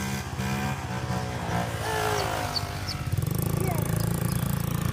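A vintage Honda Z50 minibike engine runs in a garden, buzzing steadily and revving up to a faster, louder pulse near the end, with people talking over it.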